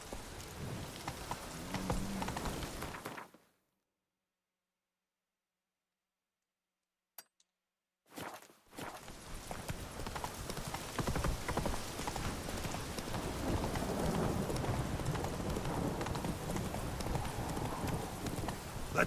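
Roach, Geralt's horse in The Witcher 3, gallops with a steady, loud clip-clop of hooves that cuts out into silence for several seconds, then resumes, continuous and close, with a faint clink mixed in.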